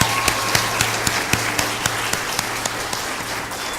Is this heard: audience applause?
yes